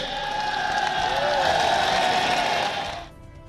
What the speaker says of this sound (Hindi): मेरे साथ तालियां लगाओ उसके लिए